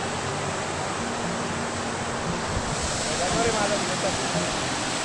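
A waterfall at Peth roars as a constant, dense broadband rush, filling the whole clip at steady loudness while someone speaks faintly underneath.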